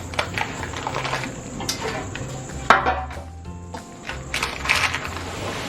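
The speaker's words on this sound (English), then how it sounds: "we are going to lift it right out of that pan onto our cutting board here" Apple pie bars lifted out of a baking pan onto a cutting board, giving scattered scrapes, soft clatters and a sharp knock or two close by, with no talking.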